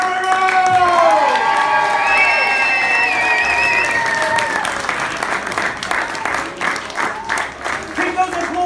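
Loud applause and cheering from a wedding crowd greet a newly married bride and groom, with high whoops and shouted voices over dense clapping that carries on steadily throughout.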